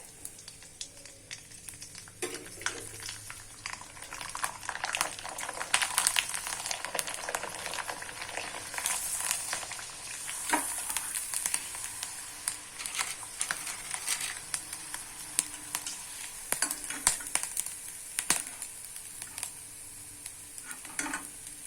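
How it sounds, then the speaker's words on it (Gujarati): Sago wafers fry in hot oil while a ladle presses them down, giving a steady bubbling sizzle with soft scraping and stirring sounds throughout and no talking. "સહેજ ચમચાને ભાર દઈ દેવાનો છે, જેથી કરીને એકદમ સરસ રીતે તળાય"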